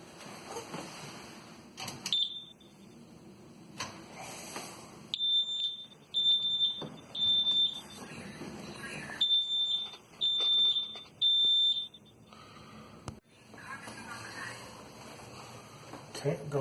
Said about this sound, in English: Okay, going through the smoke alarm